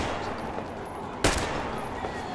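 A single sharp gunshot cracks out in Metro Exodus, loud and close, over a dense, steady background of game noise.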